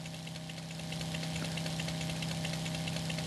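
A Honda XRE 190 motorcycle idles in a Brazilian motorcycle game, a steady close engine drone with a fast even knock and a strong low hum throughout, with no talk.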